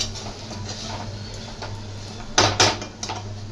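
Okra sabzi stirred in a pan, with soft scraping under a low steady hum and a couple of sharper metallic clatters of utensil against pan near the middle, close and without talk.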